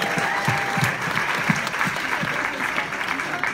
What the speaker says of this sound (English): give a big round of applause to Justine Sless, who once again did a fantastic job of organising this event.